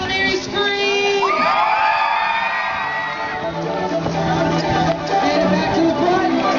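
A crowd of children at a Radio Disney event screams and cheers loudly in a sustained burst, with whoops and yells rising together, mixed with an adult voice speaking.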